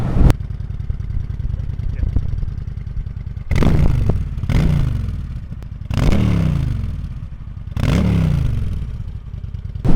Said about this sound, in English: even the bone stock exhaust on this thing sounds phenomenal